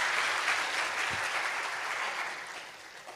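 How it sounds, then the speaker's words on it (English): An audience at a Korean honorary doctorate ceremony for Tanzanian President Samia Suluhu Hassan claps for a foundation representative about to give a congratulatory speech, a steady dense round of applause that fades slightly toward the end. "Please give him a big round of applause."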